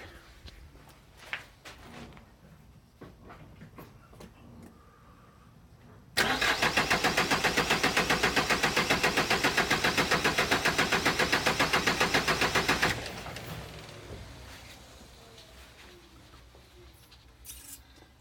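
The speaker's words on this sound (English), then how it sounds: "Give the engine a crank." A car engine cranks over rhythmically for several seconds with the throttle open during a compression test, a fast steady chugging from the starter, then stops without firing, leaving quiet shop noises.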